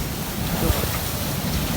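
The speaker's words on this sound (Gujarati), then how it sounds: "પાણી બહાર વહી આવે એટલી આજની ભરતી છે" Sea waves surge and wash in close by at high tide, a continuous broad roar of churning water with wind.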